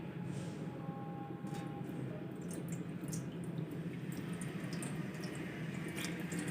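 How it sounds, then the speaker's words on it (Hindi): Water poured steadily into a cooking pot set on a stove for steaming a whole chicken, a continuous close rushing splash lasting several seconds with no talk. "पानी डालेंगे"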